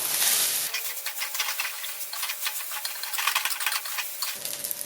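Rice being stir-fried in a pan for fried rice: continuous sizzling hiss with scraping, stirring strokes of a utensil, close and fairly quiet, with no voices.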